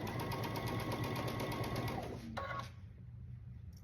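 A sewing machine stitches a quilt block with a steady, close, rapid mechanical whir, then stops just past two seconds, leaving a quiet room tone with a few soft clicks.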